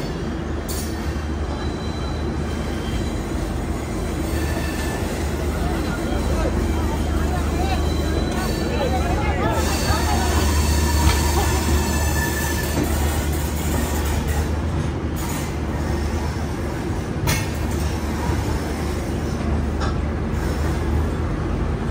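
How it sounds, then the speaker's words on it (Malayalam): A Humsafar Express rolls into platform one at an Indian railway station, a steady loud rumble of wheels and carriages with thin metallic squeals rising over it throughout. "ഒന്നാം നമ്പർ പ്ലാറ്റ്ഫോമിലേക്കാണ് നമ്മുടെ വണ്ടി വരുന്നത്"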